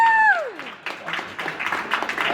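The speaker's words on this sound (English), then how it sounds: "Hey, can I get a round of applause?" An audience claps in a round of applause, a scattered patter of hands rising after a falling tone, continuing steadily at moderate volume with voices mixed in.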